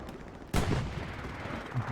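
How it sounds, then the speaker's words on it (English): Artillery fire in the World War II shooter Hell Let Loose: a sudden heavy blast about midway, followed by a sustained rumbling low-end roll and scattered distant gunfire. "As the artillery there takes out some more"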